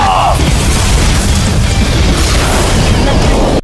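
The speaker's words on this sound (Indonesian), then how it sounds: "Suara gemuruh yang dahsyat meledak" A deep, roaring boom fills the whole stretch, a sustained heavy rumble of an explosion that stays loud without fading.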